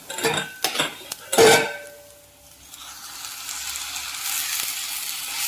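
Chaya leaves drop into a pan of cooked grated coconut with a few clanks of utensil on metal, followed by a soft, spreading sizzle that builds steadily.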